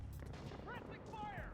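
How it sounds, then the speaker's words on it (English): Metal Gear Solid 4 gunfire: muffled booms and shots rolling under a loud, dense game soundscape with low rumble and whistling tones, continuous and busy throughout. "I hope you could hear me over any of the gunfire"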